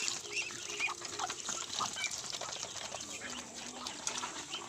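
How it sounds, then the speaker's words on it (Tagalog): Native ducks on a countryside farm with pigs, a restless chorus of quacks and clucking calls, some near and some farther off, with brief wing flaps under a soft outdoor background. "Yung makukulit na mga itik."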